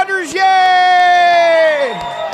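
A party crowd at a St. Patrick's Day morning-show bash cheers and whoops loudly for firefighters, with a sustained voiced yell rising over the hubbub for about two seconds before trailing off.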